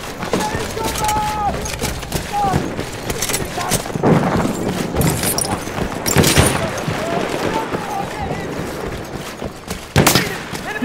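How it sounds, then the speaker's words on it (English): Battlefield 1 machine gun fire during a Rush attack on River Somme, sharp rapid cracks and scattered blasts in dense battle noise, with voices calling out over the fighting. "Look out! Machine gun!"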